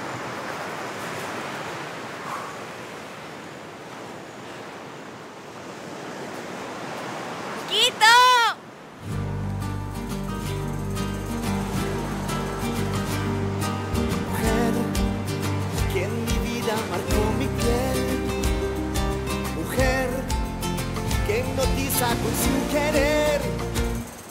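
Waves rolling onto the sea shore make a steady, broad wash of surf for about eight seconds, then music abruptly takes over and plays to the end.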